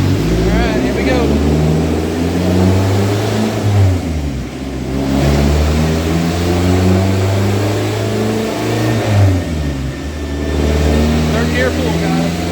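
A Toyota Celica ST204 with a 5S-FE engine of over 198,000 miles pulls hard through third gear on a dyno. Two long, loud climbing revs each rise steadily and then cut off, with a brief lull between them.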